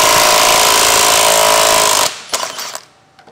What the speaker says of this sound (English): we're basically gonna use an electric impact to get this off